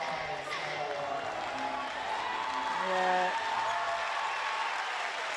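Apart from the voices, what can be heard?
basketball crowd cheering and applauding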